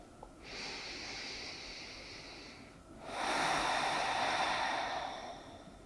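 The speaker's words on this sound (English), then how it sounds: "And just breathe." Slow, relaxed yoga breathing while lying on a mat: a long, soft inhale followed by a deeper, louder exhale, close and unhurried, with no talking.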